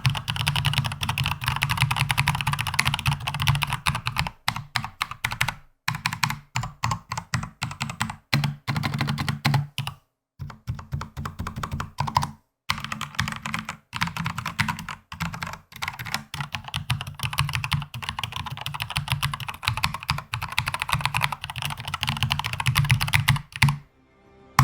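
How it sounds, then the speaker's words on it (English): Continuous close-up typing on a Logitech Pro X TKL keyboard with brown tactile switches, giving a fast, clear and fairly loud run of key clacks with a couple of brief pauses. "the brown tactile keys have a clear and quite loud sound to them"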